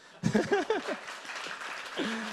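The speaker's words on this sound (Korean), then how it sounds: "미국에서는 이런 박수 한번 쳐주시던데" A short burst of audience applause at a cryptocurrency company presentation in Korea, a crowd clapping briefly, mixed with a little laughter and a voice speaking over it.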